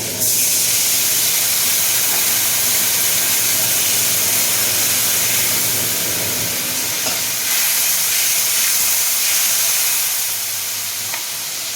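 Hot pan of aam shol curry with turmeric water added, giving a loud, continuous, close sizzling hiss with a few faint clinks and no talking.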